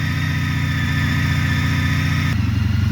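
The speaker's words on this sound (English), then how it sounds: "Now we actually started the engine" Honda CTX 1300 motorcycle engine idling right after an oil change, a close, loud, steady pulsing putter that shifts slightly lower partway through, with no talking.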